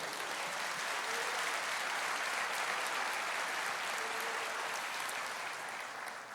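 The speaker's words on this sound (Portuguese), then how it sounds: "você pode aplaudir o Senhor" Sustained applause from a church congregation at a worship service, a steady even wash of many hands clapping at once that holds for several seconds before easing slightly at the end.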